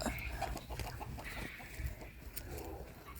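Barred Rock hens cluck softly inside a breeding hut, a steady low murmur of fowl calls with a few sharper notes, heard up close in a busy, continuous clutter.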